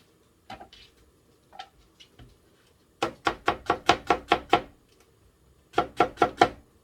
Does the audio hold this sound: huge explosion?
no